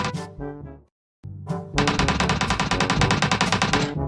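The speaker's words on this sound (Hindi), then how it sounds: "फायरिंग तो हुई है मेरे ऊपर।" Gunfire in the mobile game PUBG Mobile: a couple of short bursts, a brief silence, then a long rapid automatic volley of loud, close shots, with no talk over it.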